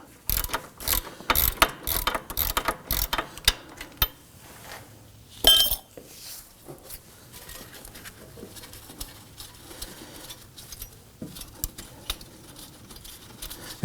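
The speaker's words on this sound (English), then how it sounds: "Now as you loosen and remove this upper bolt" Ratchet wrench loosening the upper caliper bracket bolt on a 2005-2009 Subaru Legacy, a fast run of sharp metallic clicks for a few seconds, a brief clink, then scattered lighter taps and handling noises, close and fairly loud.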